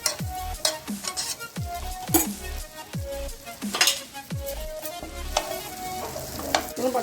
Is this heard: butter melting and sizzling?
yes